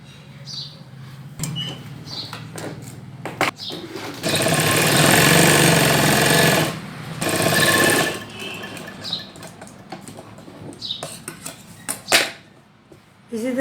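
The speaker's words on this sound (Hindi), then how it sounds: "फर्स्ट हमें आसन की गोलाई पे सिलाई लगानी है" A domestic sewing machine stitches the curved seat seam of a baby pant, running in one long loud burst and a shorter second burst between quieter handling noises and clicks.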